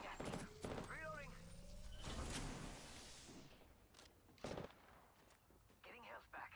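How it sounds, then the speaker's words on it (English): Gunfire in Apex Legends, with a few loud sharp shots and clustered bursts breaking through game voice lines and chatter, spread unevenly over several seconds. "Getting shot at."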